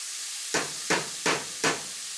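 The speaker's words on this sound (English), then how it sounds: "And let that saute on, medium-low here" Chicken and wild rice casserole ingredients sautéing in a pan over medium-low heat, with four evenly spaced bursts of soft sizzling and stirring over a quiet background.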